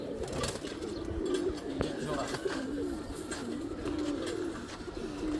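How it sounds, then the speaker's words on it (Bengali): A tota pigeon coos in a loft of racing pigeons, soft repeated calls close by over a busy background, with someone talking now and then. "এই যে একটা তোতা কবুতর ডাকতেছে"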